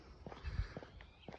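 Faint footsteps crunch along a trail in a nature preserve on a morning walk, a few soft, quiet steps over a low outdoor background.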